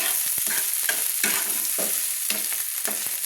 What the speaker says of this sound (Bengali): আমি 7-8টা কাঁচা লঙ্কা কুচিয়ে দিয়েছিলাম, দিয়ে ভালো করে আমি তেলের মধ্যে কষিয়ে নিচ্ছি